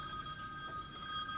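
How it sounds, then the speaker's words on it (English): A faint telephone rings with a steady electronic tone, quiet and distant in the room. "Somebody's phone is ringing, yes?"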